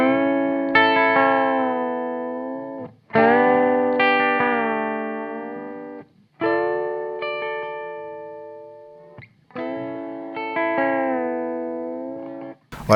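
A blues guitar lick with a country flavour, rhythmically precise, with a string bend pushing the pitch up. Four clean, bright phrases with reverb ring out with short pauses between them, played alone.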